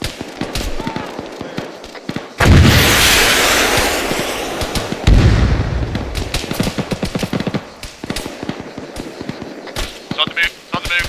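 A weapon fires during a training session, a loud blast at the start of a burst of heavy booming shots with rattling echoes, followed by scattered bangs as voices talk over the action.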